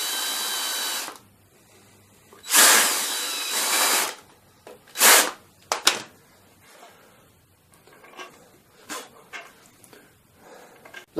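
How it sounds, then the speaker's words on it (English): A drill countersinks clearance holes in a wooden frame for a drop-down clothes airer, sounding in several short loud bursts separated by quiet pauses and small handling knocks. "on the outside of the frame just countersink the holes"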